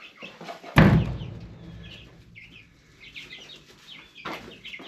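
Chickens cluck inside a farm coop, with a loud thump or slam early on, then scattered close clucks and soft bird calls in a quiet shed.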